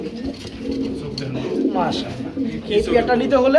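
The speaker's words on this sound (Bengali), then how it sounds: "এখানে দেখতেছি আমরা আরেক জোড়া কবুতর রয়েছে" Racing pigeons coo softly in a repeated, rolling pattern near the listener, while someone talks over them throughout.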